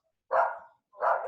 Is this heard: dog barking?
yes